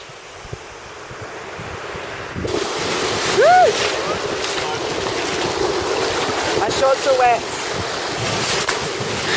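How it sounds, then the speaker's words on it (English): Rough ocean waves crash at Wamberal Beach on the Australian east coast, a continuous loud surf roar under strong wind noise, with people talking and exclaiming over it. "Those waves are intense."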